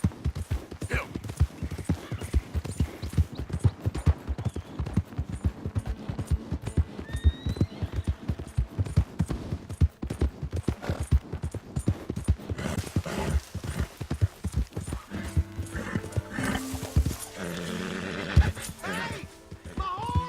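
A horse gallops in the video game Red Dead Redemption 2, with rapid, steady hoofbeats close by and a whinny near the end.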